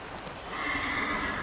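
A Peruvian horse mare whinnies once, a high wavering neigh rising after a quiet start and holding steady to the end, fairly close and clear.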